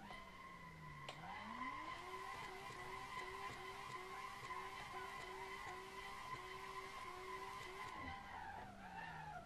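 A Tofaş car drifting on a mountain road in Assetto Corsa, tires skidding in one long sustained squeal over a revving engine whose pitch climbs, holds, then drops near the end; no voices.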